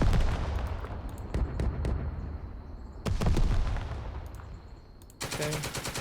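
Machine gun fire in the video game Second Front, bursts of rapid shots with heavy booming impacts, moderately loud, ending in a dense quick rattle.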